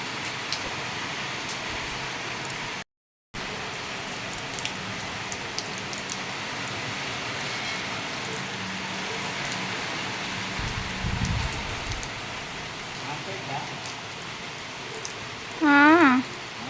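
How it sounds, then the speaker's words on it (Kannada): Soft, steady rain patters in a continuous hiss, with a brief vehicle rumble partway through and a short voice near the end. "ಮಧ್ಯಾಹ್ನ ಮಳೆ ಬಂತು ಸ್ನೇಹಿತರೆ"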